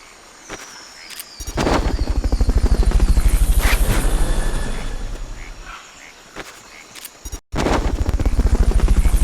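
Fulton recovery helicopter in Metal Gear Solid Peace Walker, a loud steady rotor thump that swells and holds, broken by a brief cut, then resumes with the same rapid chopping pulse.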